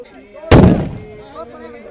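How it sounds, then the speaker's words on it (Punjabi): A single sharp firework blast bursts out loud and close during a Sikh Nagar Kirtan procession, its crack decaying over half a second amid crowd noise and distant voices. "ਇਧਰ ਮਗਰ ਆਤਿਸ਼ਬਾਜ਼ੀਆਂ ਕਰੀ ਜਾਂਦੇ ਨੇ"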